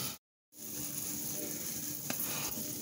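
An egg sizzles and fries in a hot pan on a barbecue, a steady close crackling hiss after a brief silent gap, with one sharper pop partway through.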